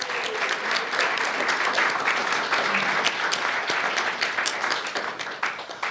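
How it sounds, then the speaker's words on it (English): A crowd at a Santa Barbara International Film Festival student filmmaking press conference gives sustained, dense applause for ten student films, steady and fairly loud for the whole stretch. "So a round of applause just for all of them."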